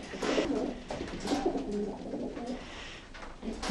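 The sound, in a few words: pigeons cooing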